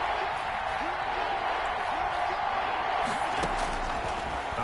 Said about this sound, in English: And the crowd getting into it as we come up on a big 3rd down.